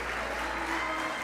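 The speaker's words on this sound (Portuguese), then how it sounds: "Aplauda mais forte a Ele." A church congregation applauds steadily throughout, a dense, even wash of clapping from many hands, moderately loud and continuous from start to finish with no voices standing out.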